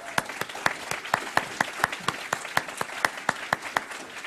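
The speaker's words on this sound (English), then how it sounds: "people standing up a round of applause" An audience applauds at a talk, scattered clapping in a moderate crowd with a few sharp, regular claps standing out above the rest, fairly quiet overall.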